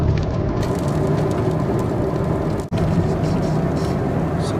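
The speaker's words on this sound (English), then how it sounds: "Our first rain after the summers" The first rain after summer in Delhi makes a dense, continuous hiss at steady loudness throughout, broken by one momentary dip.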